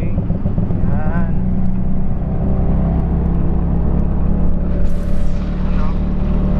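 A motor tricycle engine drones loud and close in a steady, rough rumble throughout, with the low throb of the motor holding constant and traffic noise faint around it.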